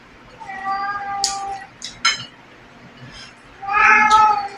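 A house cat meows several times at close range, a short call followed by a longer drawn-out meow, over low room noise with a couple of sharp clatters in between.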